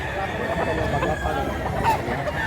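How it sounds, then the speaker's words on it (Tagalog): Chickens and roosters at a Cebu poultry market, with clucking and crowing scattered through a busy background of people talking. "Gandang manok."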